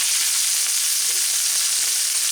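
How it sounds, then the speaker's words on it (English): Salmon sauteing in avocado oil over medium-high heat, giving a steady, bright, close sizzle that holds constant throughout with no voices. "I got some avocado oil here over medium-high heat. And we're just going to saute this for like 45 seconds to a minute."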